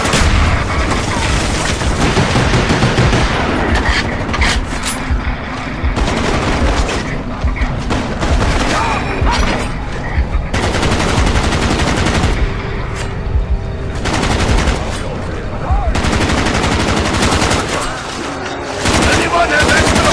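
Dense, continuous gunfire in the Shangri-La zombies map of Call of Duty: Black Ops, with rapid automatic bursts and booming shots layered over each other almost without pause, loud and close, with a player talking intermittently.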